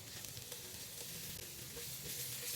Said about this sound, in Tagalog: And then I sauteed some ginger,